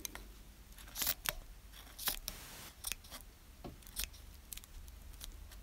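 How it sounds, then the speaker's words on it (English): Scissors snip the threads of a finished Torchon bobbin lace bookmark, making a series of sharp, quiet, irregular cuts close up with short pauses between them. "you take your trusty scissors"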